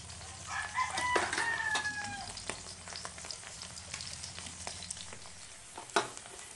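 Dried salted fish with scales sizzles steadily in a frying pan, a crackling hiss that holds throughout, while a rooster crows in the background near the start.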